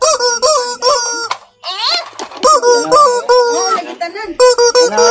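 A squeaky rubber toy chicken is squeezed repeatedly, giving loud honking, wailing squeaks in quick bursts with short gaps, close to the listener.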